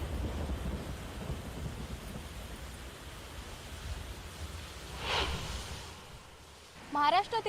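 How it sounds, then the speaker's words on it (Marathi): Heavy monsoon rain during flooding in Maharashtra makes a faint, steady hiss with low rumbling and a brief surge, and a voice briefly speaks near the end. "महाराष्ट्रातील बऱ्याच भागात मुसळधार पाऊस पडतोय"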